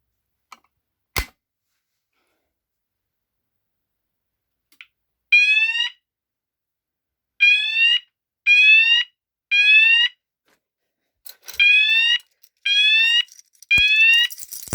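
A fire alarm sounder emits a code 3 sweep tone: rapid sweeping tones in three-burst groups, repeating with pauses between, mixed with a few sharp clicks.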